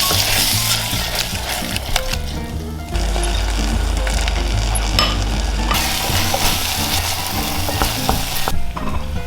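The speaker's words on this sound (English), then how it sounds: "tomato puree, and then the herbs on top. Give that a good mix." Tomato puree and herbs stirred in a hot pan, a loud, close sizzle with constant spoon scraping and rhythmic clacking against the pan throughout.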